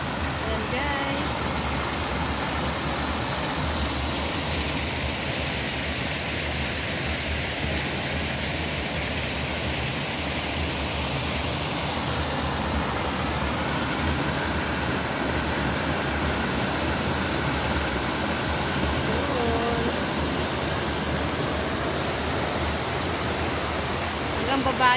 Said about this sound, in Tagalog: Oh, ang lakas ng agos, oh